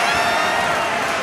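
A wrestling arena crowd in WWE 2K25 roars in a dense, constant wash of cheering during a Roman Reigns versus Rhea Ripley match, loud and unbroken throughout.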